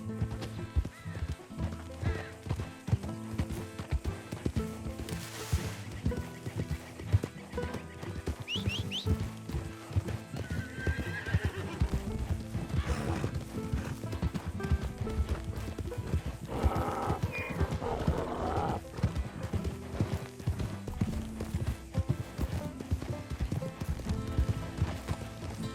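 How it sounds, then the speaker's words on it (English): Donkey hooves clip-clopping steadily in Red Dead Redemption 2, with a brief whinny-like bray partway through, set against a busy game soundtrack. "It's just a donkey, idiot."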